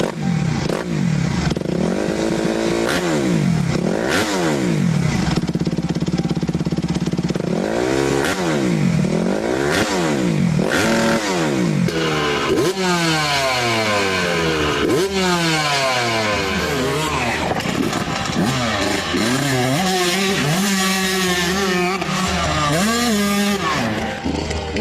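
A single-cylinder motorcycle engine revs repeatedly, loud and close, its pitch rising and falling in a series of throttle blips over a steady rough idle with no talk.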